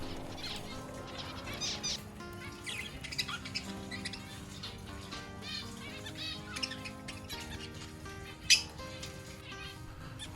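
A wild flock of zebra finches chatters constantly around a tree, with many overlapping chirps and squawks at moderate distance and one sharper call standing out near the end.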